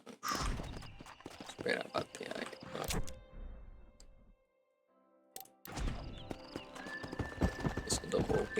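Horse hooves clip-clop in Red Dead Redemption, a lively rhythmic trot with a whinny, playing under someone talking; the hoofbeats drop out briefly mid-clip before resuming.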